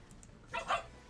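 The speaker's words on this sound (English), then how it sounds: "Chihuahua in the back getting stepped on probably by the bigger dog" Chihuahua yelping in the background, two quick faint yips followed by a louder whimpering cry at a distance over quiet room noise.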